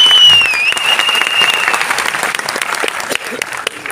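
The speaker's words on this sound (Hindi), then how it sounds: "ये जो तालियां इस कंपनी के लिए।" Audience applause at a Mi Lifestyle company gathering in India, a dense, steady wash of many hands clapping for the company, with a high whistle early on and faint voices underneath.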